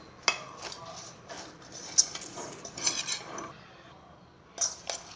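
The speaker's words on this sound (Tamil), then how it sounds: "இப்போ இதில் கொஞ்சமாக உப்பு ஆட் பண்ணி இப்போ இதை நம்ம நல்லா மிக்ஸ் பண்ணி விட போகிறோம்" Chopped carrot and vegetables tossed with salt in a bowl, with scattered clinks, scrapes and stirring knocks of a utensil against the dish, soft and close.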